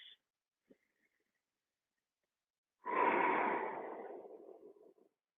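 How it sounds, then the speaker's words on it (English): One long, deep breath out during a qigong seated forward-fold hamstring stretch, heard close and fairly loud after a near-silent pause with a faint earlier sniff, then fading away gradually. "A few deep breaths."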